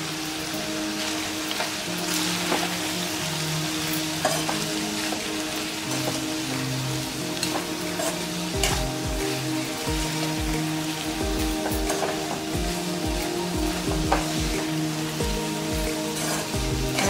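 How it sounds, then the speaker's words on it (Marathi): Spices are stirred into bitter gourd bhaji frying in a pan, giving a steady, crackling sizzle with scattered spatters and soft scraping from the spoon, close and continuous, with no talking. "आता हे सगळे मसाले एकजीव करून घ्या"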